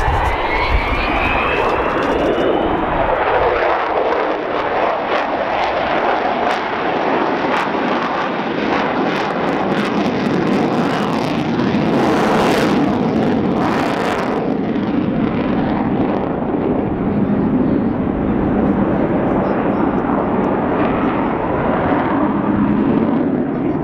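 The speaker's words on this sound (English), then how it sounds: "he's going to turn, you can see the power coming on those engines," Avro Vulcan XH558 delta-wing bomber at an air day, its jet engines roaring loudly as power comes on for a climbing turn, a sustained powerful rumble rising in intensity and sweeping across.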